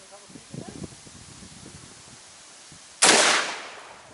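A single loud rifle shot from an 18-inch barrel fired at a hybrid body armor plate, a sharp close blast with a fading tail, preceded by faint rustling and soft handling clicks.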